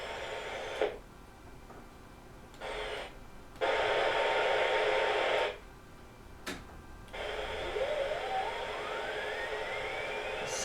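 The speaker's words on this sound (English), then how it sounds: "Sounds like frequencies are moving around in it" AM static from a Motorola R2001C, switching between hissy bursts of noise and quieter gaps, with a rising whistling tone sweeping through near the end. Faint and steady, no voices.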